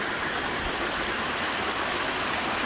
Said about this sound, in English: I just love the sound of the waterfalls